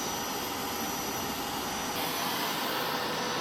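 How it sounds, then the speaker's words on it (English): A vacuum cleaner drones loud and steady inside an aquaponic greenhouse being rebuilt, a constant whooshing motor roar with no talk and a slight shift in pitch partway through. "We need to vacuum clean this."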